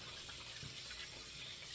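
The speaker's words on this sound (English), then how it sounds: "we'll wash our hands really well" A tap runs hot water in a steady, even gush while someone washes their hands after shaving, with no voices.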